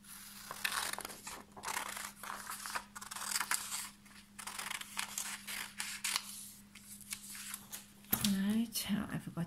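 Scissors cut through a strip of paper in repeated crisp snips and rustles, close and moderately loud, for a classroom fraction-wall activity; a person speaks briefly at the end.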